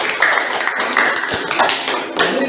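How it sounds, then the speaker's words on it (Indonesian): A group claps for the men's team during a madrasah class session in Banda Aceh, a dense, steady patter of many hands lasting throughout, fairly loud and close with no talk over it. "tepuk tangan untuk kelompok lelaki"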